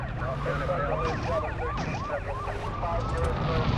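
A police car siren in the video game GTA 2 wails in a rapid rising and falling cycle over engine and game noise, steady and fairly close.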